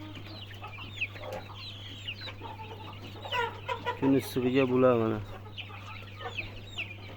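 Chickens cluck repeatedly in a hot room, panting in the heat, with a louder burst of calls near the middle and a person talking over them throughout.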